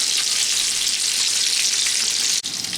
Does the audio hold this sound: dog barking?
no